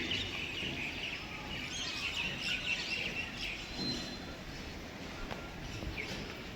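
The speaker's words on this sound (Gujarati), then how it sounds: "કાબર બેઠી" A common myna calls among other birds outdoors, its chirps and whistles scattered over a steady background hiss, fairly faint, with no talk.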